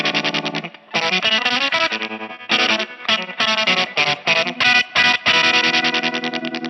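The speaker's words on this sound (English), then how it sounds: "for the solo, there's actually a bit crusher in it." A buzzy synth lead run through a bit crusher, with a gritty, crunchy texture, plays a choppy run of short staccato notes, loud and up front, no voices.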